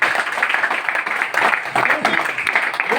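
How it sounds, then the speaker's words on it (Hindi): An audience at a meeting claps loudly and steadily throughout, a dense, close spatter of hand claps that continues without pause. "आप लोग दिल खोल करके अपने तरफ से एक ताली बजा दें जोर से"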